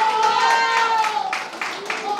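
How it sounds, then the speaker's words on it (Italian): An audience at an Italian televised charity broadcast applauds, a dense patter of clapping mixed with a sustained tone and voices, continuing for the length of the clip. "al quale mandiamo un applauso, Piero Gasparini dal Val Trompia"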